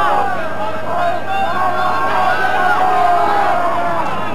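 A 25,000-strong rugby crowd at Ballymore chants during the second test of the 1989 Lions tour of Australia, a sustained, droning mass of voices filling the stadium.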